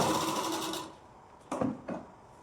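A sewing machine stitches a blouse in a fast, steady run that stops, followed by a couple of brief mechanical clunks.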